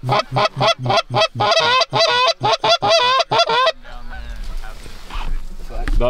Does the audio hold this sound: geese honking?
yes